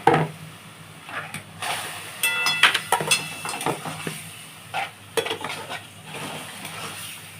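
Chopped spinach that had been soaked in cold water goes into a pan of frying spices, giving a soft sizzle with scattered clinks and scrapes of a spoon against the pan, close by and fairly quiet.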